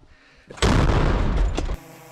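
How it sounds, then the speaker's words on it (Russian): A single loud, heavy artillery boom that bursts in abruptly, holds for about a second with a rumbling roar, then cuts off. "Выстрел!"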